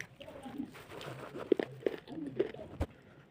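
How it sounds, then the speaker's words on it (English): Crunchy chinchin and groundnut snack being chewed up close, with several sharp crisp bites and crunches scattered through a soft background. "ChinChin and groundnut is so delicious. So crunchy."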